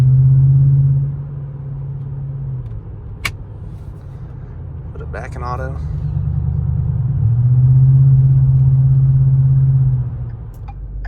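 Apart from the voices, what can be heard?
2012 Ford F-150 with ARH catback exhaust rumbling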